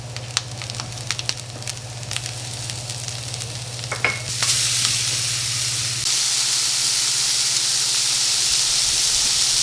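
Brussels sprouts, mushrooms and garlic cooking in a cast iron skillet: a steady close sizzle with intermittent clicks and stirring, jumping to a louder, fuller hiss of frying about halfway through that continues to the end, with a low hum underneath.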